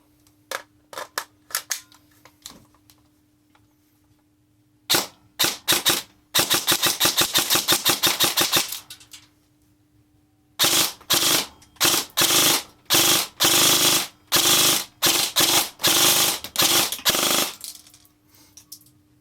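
An M4 airsoft rifle on a 7.4-volt battery fires, starting with scattered single shots, then loud sustained full-auto bursts at roughly 35 rounds per second, repeated several times with short pauses between.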